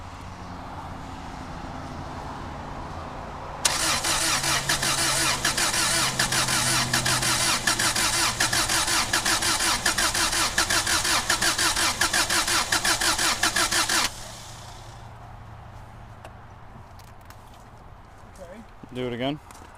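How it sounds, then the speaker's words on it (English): Subaru Outback engine, newly swapped in at the roadside, cranks with a starter whir for about ten seconds and then stops. A steady idle hum runs in the background and a brief voice is heard near the end. "let's give it a couple cranks to get some oil pressure going through it"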